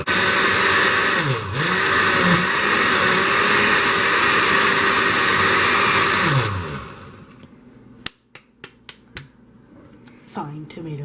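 Blender pulsing a tomato mixture, a loud whirring motor running for several seconds with pitch dips as it bogs, then cutting out into short sharp clicks and bursts.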